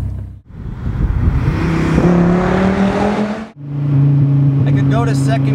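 A supercharged Dodge Viper GTS roars as it accelerates hard in first gear, its engine note climbing, cutting off briefly at the shift, then droning on loud and close, with a voice speaking over it.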